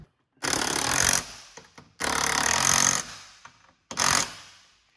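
A power tool runs in three loud, sustained bursts as mounting hardware is tightened on the sound bar brackets of a Polaris RZR UTV overhead sound system. The bursts sound close and harsh, with a short pause between each.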